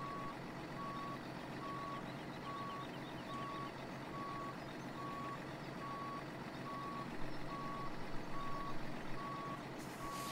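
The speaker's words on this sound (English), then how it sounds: "And this truck sure does back up slow." A logging truck in Farming Simulator 17 reverses slowly, its backup alarm beeping in an even, regular series over a low engine drone, with a brief louder rumble near the end.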